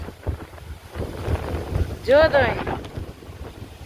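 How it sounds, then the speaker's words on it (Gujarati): Strong gusting windstorm wind buffets the microphone in a steady roar as neem trees sway, with a voice speaking briefly over it. "વાવાઝોડું આવી ગયું છે ફાસ્ટ"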